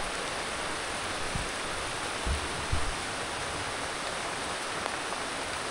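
Steady, even hiss of rain falling nearby, continuous throughout, with a few faint low thumps.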